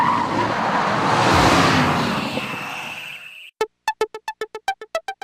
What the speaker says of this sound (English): in the virtual world of Gran Turismo 5, the digital vehicle is a genuine super sports car